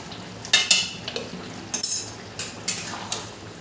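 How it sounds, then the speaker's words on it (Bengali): A spoon stirs potol curry with garam masala and ghee in a pan, producing a string of irregular scraping clinks against the metal over faint sizzling, with no talk. "খুব ভালো করে মিশিয়ে দেবো।"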